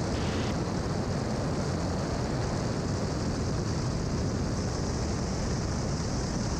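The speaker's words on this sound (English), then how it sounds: "That's a nice takeoff." A Cessna Centurion climbs out after takeoff, its propeller engine a loud, steady, unbroken drone throughout.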